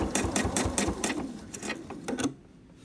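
A sewing machine stitches quilt binding up toward a corner, giving a steady, close run of rapid mechanical needle beats that stop abruptly near the end.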